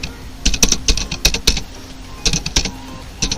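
Keys clack on a computer keyboard as a formula is typed into an Excel spreadsheet, coming in quick bursts of clustered taps with short pauses between, close and fairly loud with no speech.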